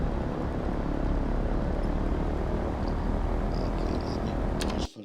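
Douglas DC-3 radial engines in a flight simulator roar steadily at maximum takeoff power, a loud, dense, continuous drone that cuts off abruptly at the end.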